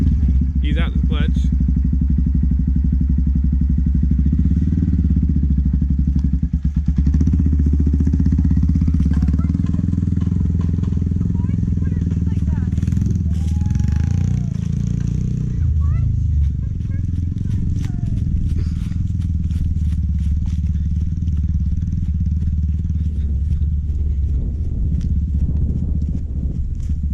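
A 2018 Honda Grom motorcycle engine runs with a low, steady hum as the clutch is eased out, heard close and continuous beneath people talking.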